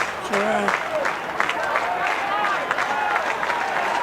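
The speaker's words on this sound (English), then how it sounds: "You may be able to hear that clap over the sound effects mic as well." Rugby league supporters clap at a Group 2 women's tackle match as the Nambucca Heads side runs out, steady outdoor crowd applause with cheering and voices mixed in, fairly loud and continuous throughout.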